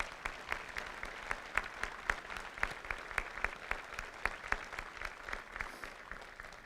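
Audience applauding at a military change of command ceremony for I Corps, steady rhythmic clapping from a crowd heard at moderate distance, continuous and fairly even in pace, with no talking over it.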